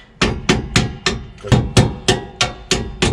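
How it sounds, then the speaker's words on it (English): A rubber mallet gives about nine evenly spaced, solid knocks as a bolt is driven into a rear shock mount on a Toyota Tundra, each tap close, firm and briefly ringing. "I'll take a rubber mallet and just give it a gentle tap"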